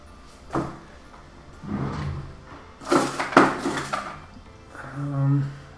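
Someone rummages through art supplies and handles pan pastels at a drawing desk, producing close, irregular knocks, scrapes and clatters in several bursts, with a louder cluster in the middle and a softer rattle near the end.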